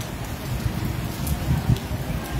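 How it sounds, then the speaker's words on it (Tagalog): Steady rain falling while riding home during a downpour, a dense, even patter with a few louder drop hits, close and continuous with no voices. "umuulan din ba dyan sa inyo?"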